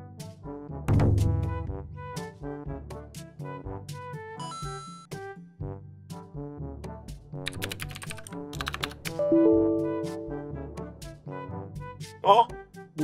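Clicky computer keyboard typing comes in close, irregular bursts of keystrokes with short pauses, and a couple of soft chimes sound in between.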